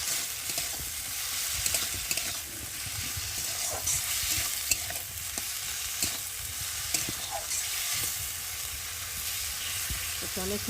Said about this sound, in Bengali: আর হলুদ দিয়ে দেবো দিয়ে আলুটা আর একটু ভালো করে ভেজে নেব